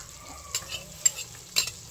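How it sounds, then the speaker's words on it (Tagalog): Garlic sautéing in melted butter, a soft low sizzle under a few sharp utensil scrapes and clicks against the pan, brief and close. "Habang tinutunaw ko na po yung butter, ay ilalagay ko na po itong bawang."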